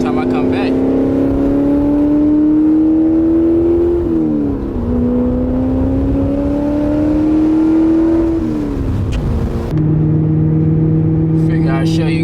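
A car cruises through traffic, its engine droning steadily and shifting pitch as it speeds up and eases off, close and loud throughout.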